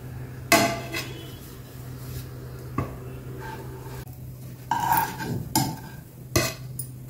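Maggi bread rolls are turned in a pan with a few scattered metallic clinks and taps of a utensil against the cookware, loud and close, over a low steady hum.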